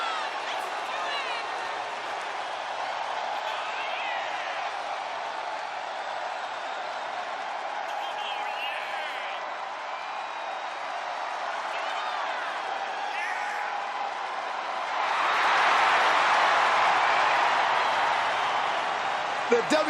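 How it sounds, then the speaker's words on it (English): A steady arena crowd roars and cheers for Bianca Belair's entrance in WWE 2K25, a continuous wash of voices under commentators talking, swelling noticeably louder near the end. "The WWE Universe loves cheering on the EST."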